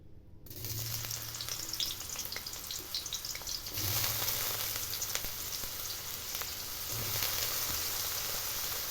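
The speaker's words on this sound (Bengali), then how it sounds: "সয়াবিনটা প্রথমে আগে ভাজতে হবে" Soybean chunks fry in hot oil in a wok, giving a steady, close sizzle and crackle with occasional stirring scrapes throughout, no voices.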